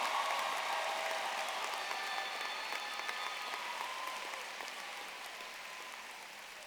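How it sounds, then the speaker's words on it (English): An audience at the Thomas Dale High School Class of 2024 graduation gives sustained applause, a steady, dense wash of many hands that fades gradually over several seconds. "please join me in giving a warm round of applause for Kalia Mitchell"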